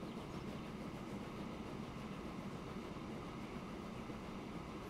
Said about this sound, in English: away that train goes